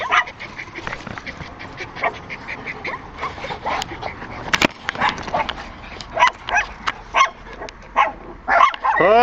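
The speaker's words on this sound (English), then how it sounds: "Puppies!" Young puppies yipping and barking up close in short, rapid bursts, sharp little yaps coming faster toward the end, with a person calling to them.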